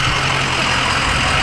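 A steady, loud car engine rumble with a deep drone from a new exhaust, idling close by with no one speaking.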